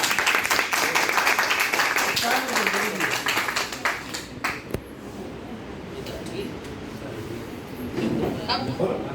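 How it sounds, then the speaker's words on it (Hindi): Clapping from a gathered audience at a home second birthday celebration after a performance, loud and continuous at first, then thinning out, mixed with voices and room noise. "प्रोत्साहन में तालियां बजनी चाहिए।"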